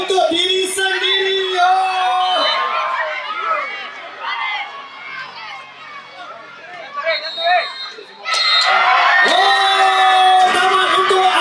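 Crowd of young voices cheering and shouting at a youth soccer academy match in the Liga Junior X 2024, loud and sustained, with an announcer's amplified voice over the din and a fresh surge of cheering near the end.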